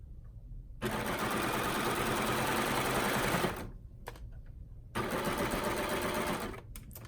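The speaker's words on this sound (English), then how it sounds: "So now I'm going to keep on sewing." A sewing machine stitches elastic into a swimsuit in two steady whirring bursts of a few seconds each, close and clear, with a short pause between them.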